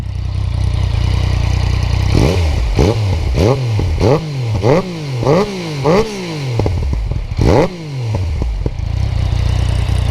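Yamaha Tracer 900 GT motorcycle with its opened-up stock exhaust, idling and then revved in a quick run of about seven sharp throttle blips, close and loud with no talking.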